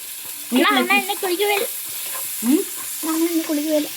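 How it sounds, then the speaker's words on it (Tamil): Onions sautéing in a pan for Tamil sambar give a faint, steady sizzling hiss, partly covered by intermittent voice-like tones. "வெங்காயம் நல்லா வதங்கட்டும்"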